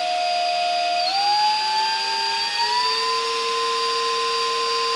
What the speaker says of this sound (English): keep my drill as straight as possible while I'm drilling